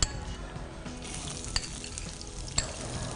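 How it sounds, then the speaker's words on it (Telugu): Sliced onions frying in ghee in a pan, making a continuous quiet crackle and sizzle with a few sharp clinks of a utensil against the pan. "ఆనియన్ వేస్తాము, ఉల్లిపాయలు వేస్తాము"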